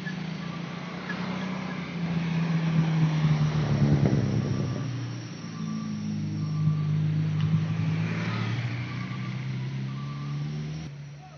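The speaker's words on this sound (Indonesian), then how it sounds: "truk ikan Maninjau Tarox berangkat menuju Kota Riau, daerah Riau ya" A Maninjau fish truck pulls away toward Riau from the Kelok 11 road, its engine rumbling and rising as it moves off nearby, with repeated beeping tones over the drone.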